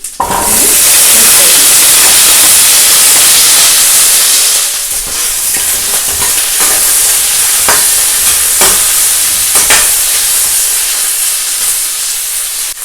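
Mustard seeds, cumin seeds and chilies fry loudly in hot oil for a quick gooseberry pickle, a dense sizzle with scattered sharp crackles and stirring clicks, easing slightly partway through.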